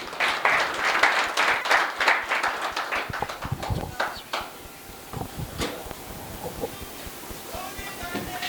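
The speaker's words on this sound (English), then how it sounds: "Let's give him a round of applause, ladies and gentlemen." Applause from an audience at an agricultural financiers' breakfast, loud close clapping from many hands at first that thins out into scattered claps and fades.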